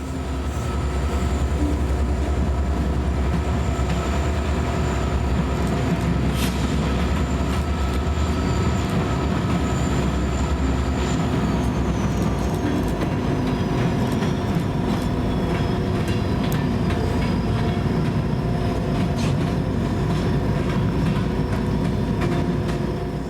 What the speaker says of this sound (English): KCT sent their Blue River turn east